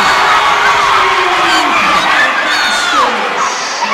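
A women's college basketball crowd in a gym erupts after a made three-pointer, loud cheering and shouting with high whoops that swell briefly and then begin to fade.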